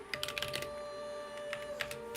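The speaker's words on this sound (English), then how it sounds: "Oh boy, this is gonna be a lot of typing." Rapid, quiet tapping on a computer keyboard, a flurry of keystrokes with brief pauses, over a faint steady hum.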